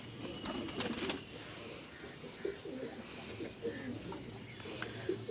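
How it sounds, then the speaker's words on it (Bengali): Pigeons leaving a loft to feed, with soft cooing, scattered wing flaps and faint chirps over a low background murmur, fairly quiet and close. "এই যে দেখুন প্রত্যেকটা পায়রা বেরিয়ে আসবে।"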